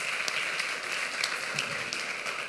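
An audience at a talk on anxiety breaks into sustained applause, a dense even wash of many hands clapping at moderate distance, with no one talking over it.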